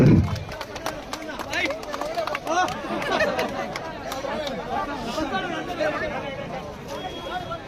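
Audience applause and cheering at a bicycle distribution event for self-help group members in Peddapanjani mandal, a steady crowd noise with talk and babble mixed through it from start to finish.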